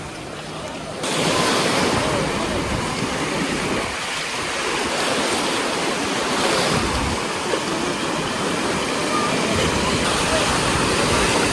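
Sea waves break and wash onto a crowded beach in Spain, a constant loud roar of surf with some wind buffeting, heard close and alone.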